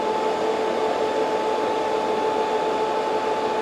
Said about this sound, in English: We're going to give it half throttle, and you'll hear the fans come on too.